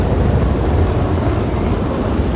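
A thunderstorm in the video game Red Dead Redemption 2, a loud continuous low rumble of thunder with a broad wash of storm noise and no talking.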